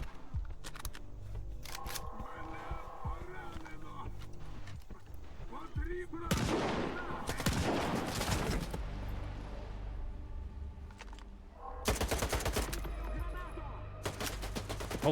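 Heavy gunfire in the video game STALKER 2, loud bursts and sustained automatic fire with dense repeated shots, strongest around the middle and end, with a voice talking in between.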